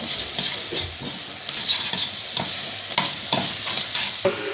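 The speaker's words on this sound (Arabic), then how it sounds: "ننزل بقى بالكبده برضه" Chicken liver tipped into a pan of frying onions and stirred, with a steady sizzle under repeated scraping strokes of a spoon against the pan, close and fairly loud throughout.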